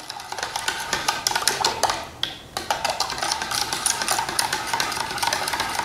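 A spoon stirs rice flour cake batter with demerara sugar in a bowl, giving a busy, continuous stream of quick scraping and clattering strokes against the bowl, loud and close, pausing briefly midway, with no speech.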